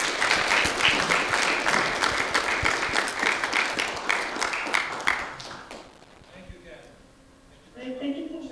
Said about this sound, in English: A round of applause for Katharine